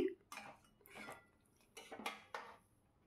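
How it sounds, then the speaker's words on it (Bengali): Paneer being stirred and sautéed in a pan gives off several separate bursts of scraping and clinking from a utensil against the metal, in short irregular strokes close by. No one speaks. "দেখো সুন্দর করে নাড়াচাড়া করে কষিয়ে নিচ্ছি।"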